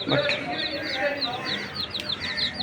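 Chicks chirping in a steady high-pitched stream of repeated peeps, close by, with a hen's low clucking mixed in.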